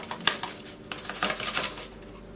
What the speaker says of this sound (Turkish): Öncelikle tereyağıyla pudingi biraz şöyle karıştırayım